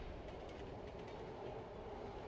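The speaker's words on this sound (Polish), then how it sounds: "Fajny pociąg." A train in a video game rolls along its rails with a steady, continuous rumble and a clattering wheel noise, heard close and fairly loud with no talk over it.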